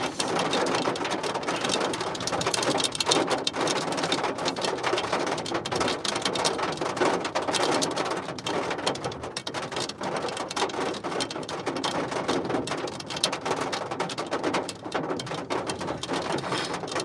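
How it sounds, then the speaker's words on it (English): Big raindrops from a storm on the Dakota plains pelt down hard and steady, a dense, loud, continuous patter with no voices. "These are some big raindrops coming down here."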